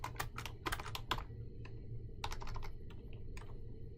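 Typing on a computer keyboard: soft, close clicks of keys in irregular bursts with short pauses between them, quiet, with no talk.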